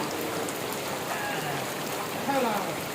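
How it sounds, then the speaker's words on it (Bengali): Heavy rain pours down as a steady, broad hiss of falling water, even and continuous, with a faint extra patter near the end. "আজকে বৃষ্টি, প্রচণ্ড বৃষ্টি হতেছে"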